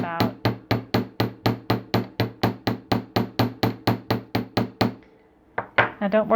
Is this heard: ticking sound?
no